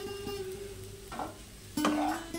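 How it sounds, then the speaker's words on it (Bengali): Chopped radish fries in a pan with a handful of peas and chopped green chillies, giving a low, steady sizzle with a few louder bursts of stirring and scraping near the end. "মূলো ভাজা হতে থাক"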